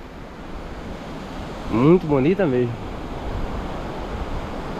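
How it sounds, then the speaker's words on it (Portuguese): Ocean waves on the beach at Tamandaré at low tide keep up a steady, broad rushing wash, while a voice speaks briefly over it in the middle. "Aqui é um trecho que tem mais ondas"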